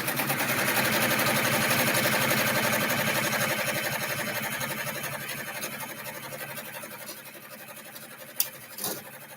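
A sewing machine stitches a placement line on a glow-in-the-dark bag piece, a steady close whirring hum that runs continuously and slowly fades a little, with a couple of sharp clicks near the end.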